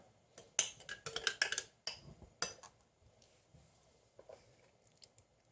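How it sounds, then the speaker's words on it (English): A long teaspoon stirs and scrapes Italian pasta salad in a bowl, with bursts of close clinks and scrapes for the first few seconds, then quieter, scattered taps. "I'm going to actually use my long teaspoon just because it's tall enough to get down to the bottom"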